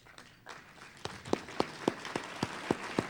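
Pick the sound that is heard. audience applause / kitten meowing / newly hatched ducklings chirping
audience applause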